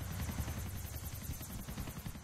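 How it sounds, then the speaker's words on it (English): A helicopter in GTA V makes a steady, close rotor chop that keeps up a fast, even thumping pulse the whole time. "this helicopter is stalking me right now"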